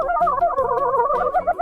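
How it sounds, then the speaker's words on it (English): A zebra of the savannah calls in a series of repeated, braying barks with a wavering, rhythmic pulse, loud and close, heard alone with no talking. "It's a zebra."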